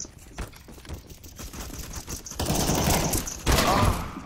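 Gunfire in the video game CS:GO, rapid crackling bursts of shots with a sharp louder volley near the end, mixed with clatter and game noise.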